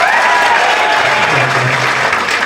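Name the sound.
audience applause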